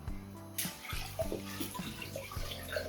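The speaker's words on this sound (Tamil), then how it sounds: "நான் இனி பயரை கழுவி அவிய விடுவோம்" Mung beans get washed in water, with splashing, swishing and sloshing close by for a few seconds and no talking.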